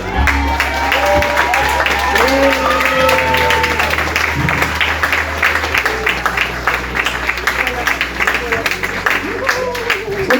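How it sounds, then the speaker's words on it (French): Church congregation applauding during a baptism service, with clapping and some cheering over sustained background music and a few voices. "On peut l'applaudir encore"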